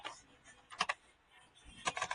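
Keystrokes on a computer keyboard while entering data in Excel, a few quiet clustered clicks in two short bursts separated by a pause, faint and close.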